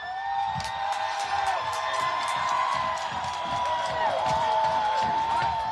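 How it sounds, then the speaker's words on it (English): Crowd cheering, whooping and shouting outdoors while the Minneapolis Third Police Precinct burns, a continuous roar of many voices with scattered sharp whistles and yells throughout. "I just wanted you to hear the sound of people cheering as the third precinct appears to be on fire at this time."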